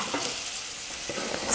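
Egg samosa masala filling, with chopped boiled egg, stirs and sautés in a pan, a soft steady sizzle with light scraping, fairly quiet and without talk.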